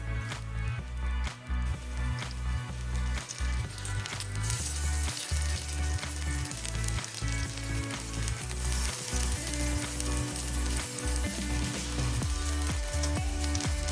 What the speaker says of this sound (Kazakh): Қызып тұрған майға бір ас қасық қимақтан салып, екі жағынан қызартып қуырып аламыз.